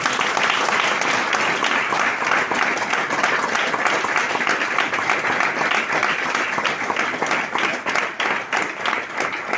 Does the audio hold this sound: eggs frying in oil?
no